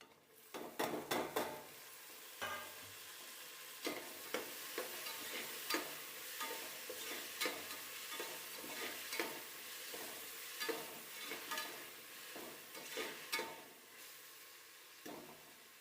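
Tomatoes frying in a pan over already fried onions, with a steady sizzle and repeated stirring scrapes and clinks of a utensil against the pan, close and fairly quiet, no voices.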